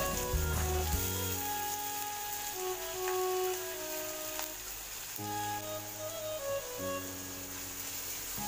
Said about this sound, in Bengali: এবারে পেঁয়াজগুলি ভালোভাবে ভেজে নেব।